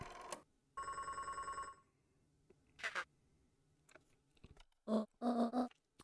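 Telephone rings in the Beacon Pines video game: a bright, trilling electronic bell in short repeated bursts, with other game sound effects scattered between them and no talking.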